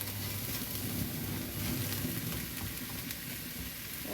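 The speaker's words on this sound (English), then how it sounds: "So we're going to pour all of our mushrooms in now, and we're going to leave them for another 5 or 6 minutes." Mushrooms frying in a pan for a creamy pork stroganoff, giving a steady, dense sizzle that holds evenly throughout with no talking.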